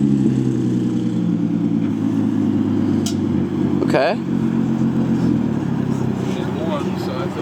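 A Nissan 350Z engine drones loudly and steadily from inside the car, a harmonic-rich rumble that stays constant throughout, with a brief spoken word over it.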